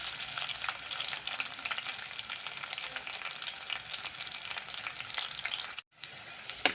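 Garlic roasts in a pan over a gas flame until reddish, crackling and sizzling steadily up close with a brief silent gap near the end.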